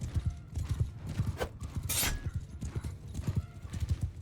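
A horse gallops during a siege battle in Mount & Blade II: Bannerlord, its hooves drumming in a fast, steady rhythm close by, with a short whinny partway through.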